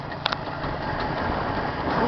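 A Jawa 634 motorcycle engine running on 92-octane petrol, idling steadily up close with a low, even rumble and a couple of brief clicks early on.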